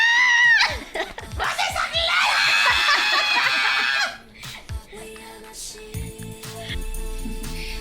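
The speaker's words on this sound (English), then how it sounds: "He screams it." A young person lets out a loud, sustained scream, followed by snickering laughter and people talking indoors.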